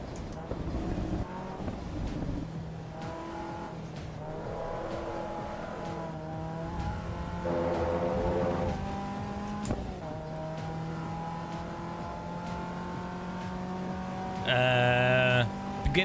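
Race car engine in the sim racing game Assetto Corsa EVO, droning and rising in pitch through repeated gear changes with a harsher high burst near the end, while someone talks over it.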